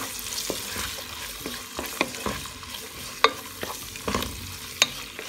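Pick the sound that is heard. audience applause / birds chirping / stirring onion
stirring onion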